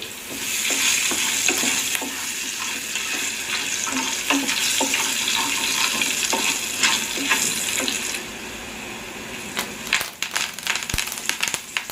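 Loud, continuous sizzling and crackling of mustard seeds, fennel seeds and chopped garlic frying in hot oil, with a few clinks of a spoon stirring the pan.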